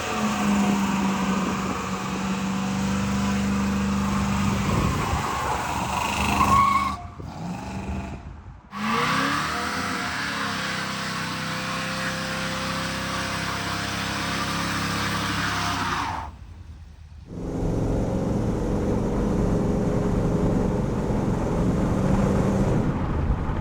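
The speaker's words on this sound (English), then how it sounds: "what better way to introduce this car than with a big smoky Burnout?" A brand-new one-of-one 1920s-style car roars through a big smoky burnout, its engine droning loudly amid wind noise, with two brief dropouts before the roar resumes.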